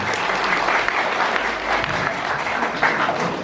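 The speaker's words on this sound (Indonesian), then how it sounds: "Tepuk tangan lagi untuk Pak Nur Yasin." A village crowd at a legislator's constituency meeting in Sumberpinang, Jember, claps for Pak Nur Yasin, a steady wash of applause lasting the whole few seconds at moderate distance.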